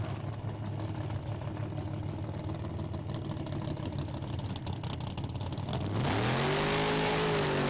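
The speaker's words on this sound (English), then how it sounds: "A great launch by both cars, neck and neck down the track." Roadster and Forenza cars launch together in a drag race final, engines droning steadily, then both surge into a loud, rising roar as they accelerate hard down the track.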